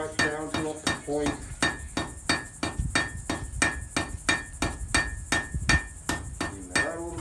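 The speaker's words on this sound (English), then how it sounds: "So first, hammer it flat in one direction." Blacksmith hammering hot metal flat on an anvil, drawing it down to a point, with a steady run of ringing metallic strikes, about two to three per second, loud and close.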